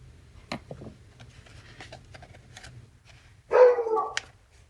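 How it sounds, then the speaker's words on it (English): Dogs yip and bark intermittently at a moderate distance, fairly quiet, followed by a louder whiny, growling burst near the end. "My dogs are playing."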